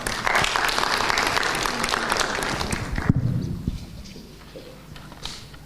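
A crowd gives loud, dense applause at the end of a political speech on the African Union; the clapping stays strong for about three seconds, then thins into scattered claps and fades.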